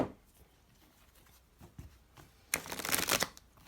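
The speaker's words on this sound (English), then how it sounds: "While I'm shuffling" Playing cards being shuffled during a card-reading session in a quiet room, starting with a few soft taps and then a loud, dense riffling burst in the final second.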